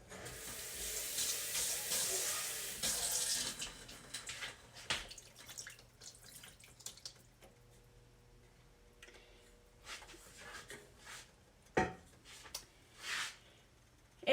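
Water is poured in a kitchen while Colombian beefsteak cooks, a steady stream for the first few seconds, then scattered drips and small clinks that fade over a quiet background.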